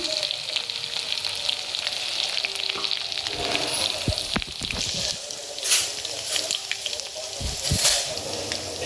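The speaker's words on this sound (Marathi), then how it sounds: "आता आपण हे असं चांगलं परतून घेतलेलं आहे।" Crushed garlic cloves frying in hot oil with crackling mustard seeds and cumin, a loud continuous sizzle with sharp pops and splutters for a spring onion pithla.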